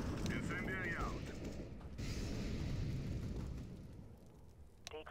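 An incendiary grenade burns in CS:GO with a loud, steady roaring whoosh that fills nearly the whole stretch, easing slightly toward the end before a brief sharp crackle.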